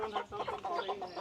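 Young chickens clucking close by, a string of soft rapid murmuring clucks in short bursts, fairly quiet.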